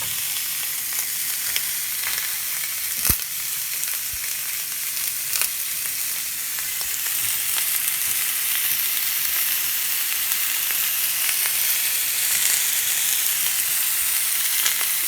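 Hamburger patties fry in a pan with a loud, continuous close sizzle and crackle that holds steady throughout, with a few sharp clicks and scrapes.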